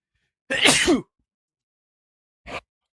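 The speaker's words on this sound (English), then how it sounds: "Hold on, let me sneeze." One forceful sneeze bursts out, followed two seconds later by a short, softer sniff or breath.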